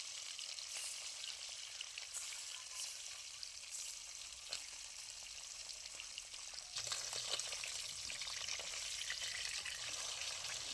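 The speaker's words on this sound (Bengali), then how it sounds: "মাছগুলো আমি একে একে দিয়ে ভেজে নেব।" Fish sizzles and spits steadily in hot mustard oil in a wok, a continuous crackling fry that grows a bit busier partway through, with no talking.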